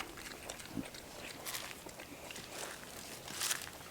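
Piglets on a farm grunt and oink softly at close range in short scattered bursts, with shuffling and rustling between the calls at a low level.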